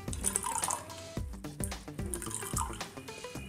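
Water is poured in small amounts into a glass of masala soda mix, a light splashing trickle with bright droplet sounds, moderately close and fairly quiet, with no talking.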